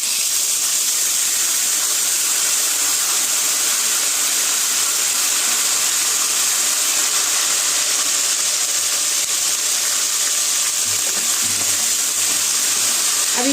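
Ginger garlic paste sizzles and fries in hot oil in a pan over low heat while cooking bagara baingan, a steady hiss close up with no talk.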